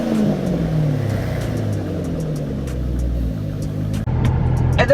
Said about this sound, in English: I put Pipes muffler deletes on it and it sounded like this